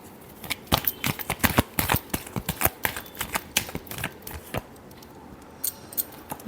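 Tarot cards are shuffled close up in a quick run of crisp, clicking flicks that slow into scattered snaps toward the end, with no voices.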